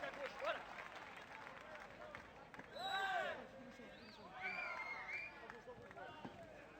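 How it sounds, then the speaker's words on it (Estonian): Crowd applause ringing out at a beach soccer event in Castellon, with a tonal music bed and bursts of cheering mixed with scattered clapping at moderate distance. "El aplauso que llega."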